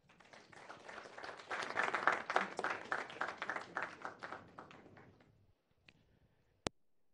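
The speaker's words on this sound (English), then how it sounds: "Let's give him a short applause in absentia." Short burst of audience clapping at a habitat fair broadcast, building and fading over about five seconds, fairly faint, followed by near silence and a couple of sharp clicks.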